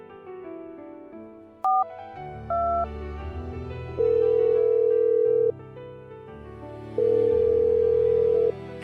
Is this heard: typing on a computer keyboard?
no